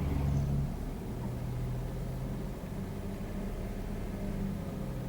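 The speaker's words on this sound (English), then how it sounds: "You got a traffic jam here in the evening" Evening traffic idles and creeps in a jam on a bridge with a damaged expansion joint, a continuous low engine rumble with steady road noise and no distinct passes.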